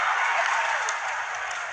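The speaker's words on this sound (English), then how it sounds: "With their crowd cheering them on." Crowd at a rugby sevens match between Kenya and Samoa in Los Angeles cheering and applauding, a steady wash of distant clapping and roar filling the stadium, fading slightly.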